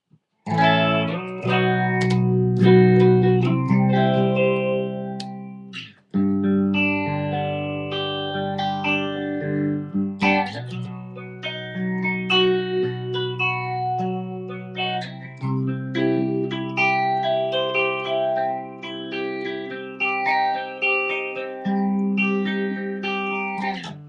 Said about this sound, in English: so there you go, that's your phaser.